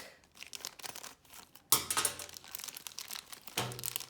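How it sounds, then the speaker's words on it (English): Crinkly plastic packaging of a pack of Lego Technic axles being cut open, a sharp crackle that breaks out mid-clip after quiet handling, then another rustling burst near the end, close and fairly loud. "I have a pack of Technic axles here. Let's just cut it open really quick."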